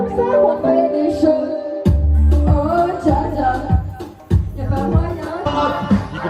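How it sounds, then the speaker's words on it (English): Loud, crowded music with strong bass beats and a tonal voice line over it, people singing karaoke with backing music nearby, in Ha Giang, Vietnam. "Doing karaoke right now."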